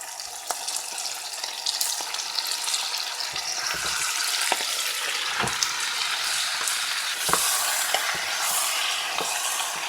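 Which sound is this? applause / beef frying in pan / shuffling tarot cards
beef frying in pan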